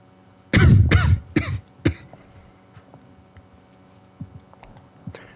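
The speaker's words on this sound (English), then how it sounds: "Really hope this coughing does not continue into the whole episode." A person coughs in a quick burst of four harsh, loud, close coughs, followed by a short throat clear and then quiet with faint clicks.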